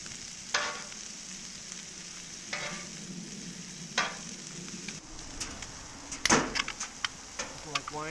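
Asparagus and scallops sizzle together on a Cuisinart 360 XL griddle, a steady broad hiss with intermittent scraping and clattering of a spatula, plus a louder clatter near the end; faint voices talk in the background.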